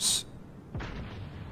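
A naval gun salvo from the cruiser St. Louis in World of Warships: a sharp burst, then after a brief pause a deep booming report that rolls into a sustained rumble.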